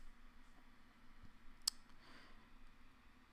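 A single sharp mouse click to update a web page snaps out once against a quiet, faintly humming room.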